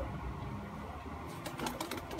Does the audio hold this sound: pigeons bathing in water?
yes